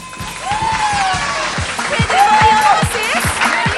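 Audience at a 2007 game-style event in Japan clapping to vote for a team, a steady burst of applause with shouting voices and tonal calls rising over it.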